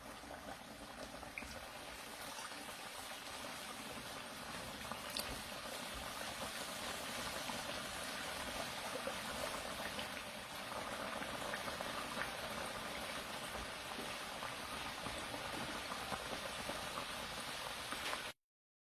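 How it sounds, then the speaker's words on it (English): Vegetable samosas deep frying in hot oil in a kadai, a steady close bubbling sizzle that holds evenly and alone with no talk. "When the oil is hot, slightly gently drop the samosas in the fryer."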